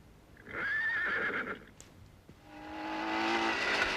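A horse in an old Indonesian film lets out a loud, drawn-out whinny, then after a short pause a second, longer call that rises in strength.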